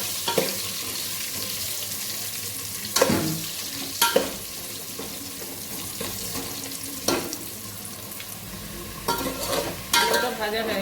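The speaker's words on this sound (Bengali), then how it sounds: "আলুটা ভাজা হয়ে গেছে, তুলে নেব" Potatoes fry in hot oil with a continuous close sizzle, broken by several sharp scraping stirs and clatters of a spatula against the pan.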